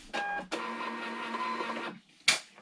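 A thermal label printer runs off a shipping label in a home shipping office: a brief whirring feed, then a steady mechanical buzz for about a second and a half, and a sharp click near the end.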